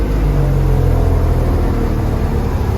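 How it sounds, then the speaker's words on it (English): 1978 Toyota FJ40 with standard transmission and four-wheel drive on the move, a loud, steady low engine drone and road rumble heard from close by, with no talk. "We're taking the 78 FJ40 down for a ride here."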